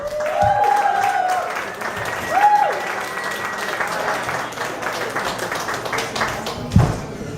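Applause from a comedy club crowd at Siberia in New Orleans as a comedian takes the stage, sustained and fairly loud for several seconds, with a voice briefly heard over the clapping.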